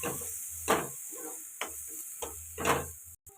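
Masala spices frying in a pan while stirred, soft hissing sizzle rising and falling with several scraping strokes, close and fairly quiet with a steady high hiss behind.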